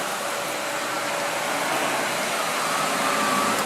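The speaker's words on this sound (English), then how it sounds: "I turn the vacuum on, and now I'm going to vacuum up all this dirt on the floor and the carpeting." A Sebo Felix upright vacuum cleaner runs continuously on floor and carpet with a loud, steady motor whine and airy rush that holds even throughout.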